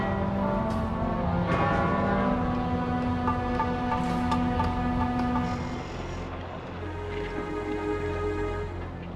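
A large church bell rings out with rich, lingering tones, several overlapping strikes resonating and sustaining into a long hum, heard clearly without any talk.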